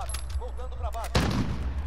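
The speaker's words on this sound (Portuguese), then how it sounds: "o cara tá dando tiro de 12 e tá aqui" Video-game 12-gauge shotgun fire: a single sharp, loud blast that cuts in near the end after a few short electronic chirps and a faint high whine.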